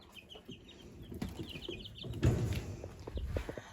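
Young chicks on a farm peep and cluck in short, faint calls against a soft outdoor background, with a few louder rustling bursts nearby.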